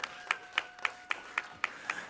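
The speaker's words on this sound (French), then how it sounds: "Est-ce qu'on peut applaudir pour les amis des gens?" Audience applause at a televised semi-final stage show, heard as eight sharp, evenly spaced clap-like bursts of moderate loudness, each separate and ringing briefly, with no voices over them.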